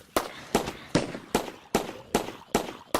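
A modded turret fires bullets in Minecraft, loud sharp bangs with no talk, eight evenly spaced shots about every 0.4 seconds, each cracking then tailing off.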